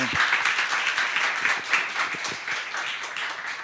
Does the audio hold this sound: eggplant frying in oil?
no